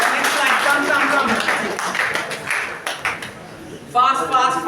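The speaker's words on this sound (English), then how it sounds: "Give them a big round of applause" Applause at Patel College greets students as they walk up, a dense clatter of many hands that thins out before a voice speaks briefly at the end.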